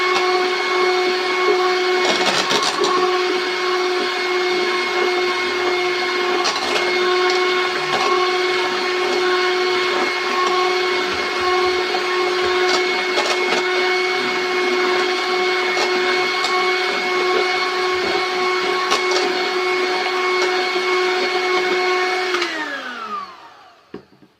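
An electric mixer whisking chocolate cake batter made with hot water, a steady loud high whine with a constant pitch that runs unbroken before winding down and stopping at the end.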